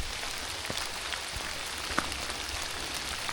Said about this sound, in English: love the vibes of the rain in the woods and just the sounds